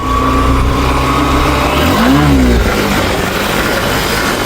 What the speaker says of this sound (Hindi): अब मैं थ्रोटल पूरा खींचूंगा, देखना पूरा थ्रोटल खींच दूंगा और फिर क्लच छोड़ दूंगा